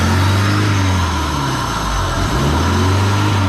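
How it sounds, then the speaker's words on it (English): A Honda/Acura car engine, suspected of a faulty fast idle valve, runs at a loud, steady high idle with a constant low drone close by. "There's the high idle right there"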